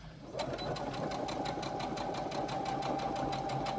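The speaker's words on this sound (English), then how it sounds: "now I'll come back and we'll do that seam again." A sewing machine with a zipper foot fitted runs steadily, stitching a seam, with a fast, even mechanical chatter that starts after a brief pause and continues loud and close with no talking.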